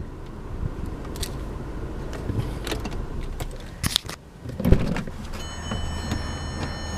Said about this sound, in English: put the automatic driver's side window back up